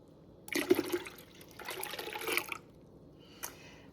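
Raw goat's milk poured from jars into a stock pot, a soft liquid splashing and gurgling in two short bursts, then a faint clink near the end.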